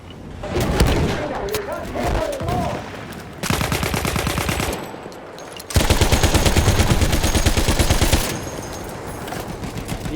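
Rapid machine-gun bursts and gunfire from Battlefield 1 come in loud, dense stretches during a tank battle, broken by short lulls, with a player's voice talking over the shooting.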